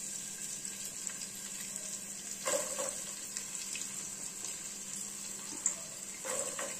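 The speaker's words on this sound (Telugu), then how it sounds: "ఇవి ఫ్రై అయ్యాక ఇందులో ఆనియన్స్ వేయాలి." Onions fry in a pan for punugulu, a steady soft sizzle and hiss broken by a few light scraping and clinking stirs.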